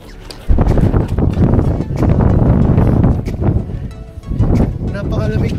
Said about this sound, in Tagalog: Actually, ang hangin ang nagpapalamig.